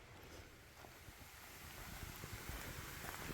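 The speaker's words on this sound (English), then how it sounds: "So I can hear the water in there, and you can see the stream" Water running in a stream beside a forest trail at Lehigh Gorge State Park, a steady rushing wash heard from a short distance, with some wind noise and no talking.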